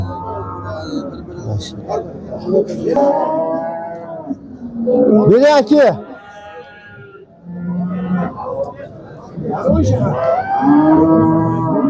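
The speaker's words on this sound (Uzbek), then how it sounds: "Qisir sigirlar." Cattle at the Qo'qonboy livestock bazaar let out several loud, drawn-out moos, one long bellow rising in the middle, amid busy chatter of traders haggling over barren cows.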